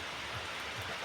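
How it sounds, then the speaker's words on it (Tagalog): Dense, steady hiss of heavy rain pouring down, a constant wash of noise with no voices. "Grabe, maulan. Sobrang ulan ngayon."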